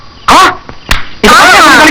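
A dog barks loudly and close by, two long sharp barks with a short yelp between them, and no other sound.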